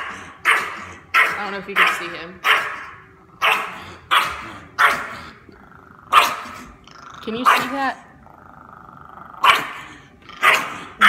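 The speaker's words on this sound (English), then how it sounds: "This dog sits at the top of the stairs." A small, stressed dog at the top of a staircase barks and growls in sharp, repeated bursts, about a dozen close, loud barks with growls in between, while a person talks over them indoors.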